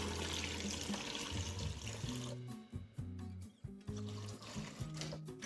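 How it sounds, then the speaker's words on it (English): Water splashes and gurgles as it's poured into a cooking pot, first a steady rush, then broken glugging sounds with hollow tones. "Add some water"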